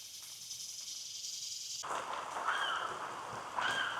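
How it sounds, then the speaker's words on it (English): Rain begins falling on a forest hiking trail in a Florida wilderness area, a soft broadband patter that grows louder and fuller midway, with faint bird chirps over the steady wash of drops. "It's starting to rain."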